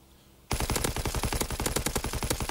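In a Call of Duty pro league match, automatic gunfire shoots through a wall: a sudden, loud, rapid burst of evenly spaced shots that starts abruptly and keeps going to the end.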